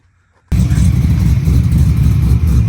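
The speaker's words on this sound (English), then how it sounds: "I actually really like the way Aaron's car sounds" After half a second of near silence, a car engine roars in loud and close, revving hard with a deep, steady rumble that holds to the end.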